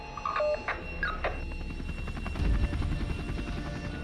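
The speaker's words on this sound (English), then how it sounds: "The only way in and out fast is by chopper." Rescue helicopter flying over the rough terrain of Kakadu, a steady rotor drone that holds at a constant level for a few seconds with a few brief tonal beeps near the start.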